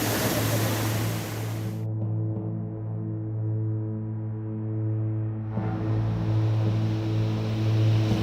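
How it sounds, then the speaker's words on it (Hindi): A flooding river in Uttarakhand, swollen by continuous rain, roars as a broad, steady rush of water. A low hum runs under it, the hiss thins for a few seconds midway and then returns full, with no talk. "उत्तराखंड में लगातार हो रही बारिश की वजह से यहां की नदियां उफान पर हैं।"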